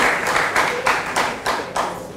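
Clapping from a school quiz audience for Presbyterian Boys' Senior High, heard as a steady patter of hands with rhythmic bursts roughly every third of a second, moderately close and continuous.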